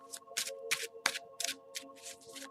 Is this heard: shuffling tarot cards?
yes